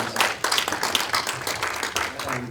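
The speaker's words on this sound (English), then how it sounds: "Let's give a big round of applause." Audience applause at a tech conference panel session on open-source software-defined infrastructure, a dense steady clapping that fills the hall for a couple of seconds.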